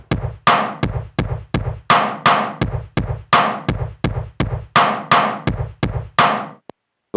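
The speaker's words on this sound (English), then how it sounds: "We're going to be using 2 kicks and a snare hit." OP-1 Field synthesizer drum pattern using the Cherry kit, with two kicks and a snare hit. A steady looping beat of punchy low kicks alternates with brighter snare cracks, dry and close, with no voice.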